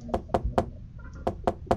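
Knocking on a door in a horror video game: two quick groups of three sharp knocks with a short pause between them, close and clear.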